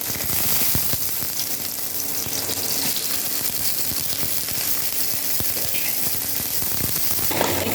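Stem vegetables and potatoes hiss and sizzle steadily in hot oil over a five-spice tempering with dried chillies, a loud, continuous frying crackle with no pause.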